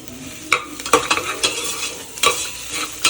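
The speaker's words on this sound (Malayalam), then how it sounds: "ഇനി ഇതിലേക്ക് ഞാനിത് കറിവേപ്പില ഇടുന്നുണ്ട്" Fresh curry leaves dropped into hot oil in a pan over low flame while cooking beef liver, crackling and sizzling steadily up close, with a few sharper spits and pops and occasional stirring scrapes.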